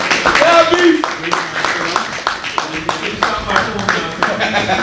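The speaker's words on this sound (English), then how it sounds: "Let's give them a round of applause" Audience clapping for the 2024 Grand Muhammad Basketball Association champions at an end-of-season awards and ring ceremony, a steady patter of hands filling the room with a voice talking over it.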